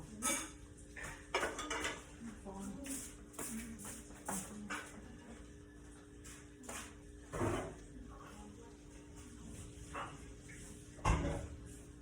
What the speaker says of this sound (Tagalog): ito ilalagay ko na dito sa Tupperware